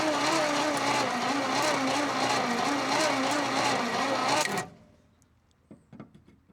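1964 Ford Galaxie engine that sat for 30 years, cranking over with a spark plug out: a loud, steady, rhythmic churning for about four and a half seconds, then it stops, leaving faint clicks and handling sounds.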